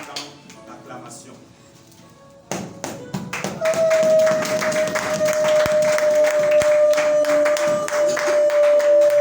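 A church congregation breaks into acclamation during worship: after a quieter start, clapping and tapping swell loudly around a sustained tone, continuing as a dense, rhythmic mass of hand claps.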